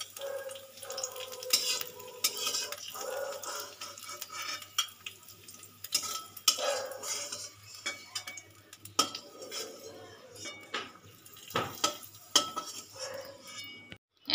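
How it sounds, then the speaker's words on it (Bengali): Drumsticks fry lightly in a pan while a utensil stirs and scrapes them, producing repeated clinks and soft sizzling at close range with no talking. "এই দেখুন আমি ডাঁটাটা 2 মিনিট মতন ভেজে নিয়েছি হালকা করে"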